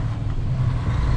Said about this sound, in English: Get that minivan in gear.